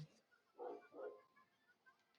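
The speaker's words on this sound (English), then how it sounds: "And that's a dog." A dog gives two quick barks close together, fairly faint and muffled, inside a game scene with a quiet background hum.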